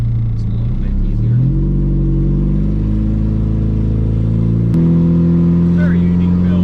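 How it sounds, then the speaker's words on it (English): A PT Cruiser race car with a worn clutch pack accelerates gently in second gear, its engine droning loud and close and rising in pitch, with a brief hitch before the note steadies at a higher level. "we're going to just get her warmed up by slightly accelerating"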